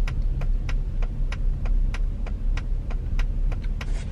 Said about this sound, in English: I'm driving right now.